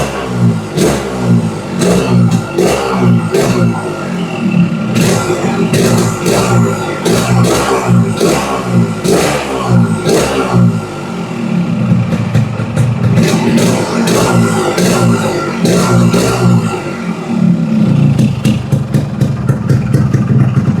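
A Yamaha RX King two-stroke motorcycle engine revs repeatedly in loud, rhythmic bursts of throttle, close by and continuous with no talking.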